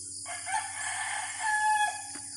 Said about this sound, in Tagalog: marinig mo mga huni ng ibon at mga manok di ba?